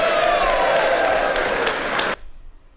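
A live rap-battle crowd applauds and cheers loudly for a rapper's intro. The dense clapping and whoops continue steadily for about two seconds, then stop abruptly, leaving a faint room tail.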